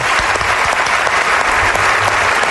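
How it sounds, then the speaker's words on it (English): A studio audience gives steady, loud clapping for a musician at a radio show, with the applause sustained evenly throughout and no voices over it. "Let's clap for him."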